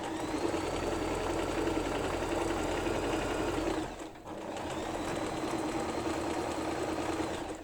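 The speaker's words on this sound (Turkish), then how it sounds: "Bu ekleme yerini de dikiyorum." A sewing machine runs continuously, stitching the joining seam of a bag lining for a crocheted bag, close and steady with a brief pause midway before resuming.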